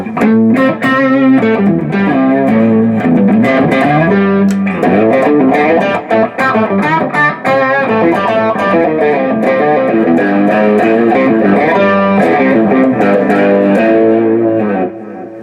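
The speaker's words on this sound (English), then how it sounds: "I can put the fuzz on, or the distortion on, with the delay, with the octave." Loud electric guitar played through a Boss Katana Artist MkII amplifier with fuzz, distortion, delay and an octave effect, thick sustained notes and chords ringing continuously.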